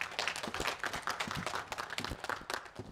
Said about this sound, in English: Josh, can we have a round of applause?